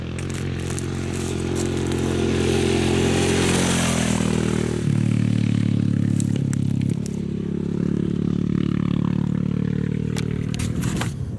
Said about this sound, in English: I can just hear a bloody motorbike coming.